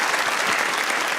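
A studio audience at a Pakistani TV comedy talk show claps loudly and continuously in a dense, steady burst of applause.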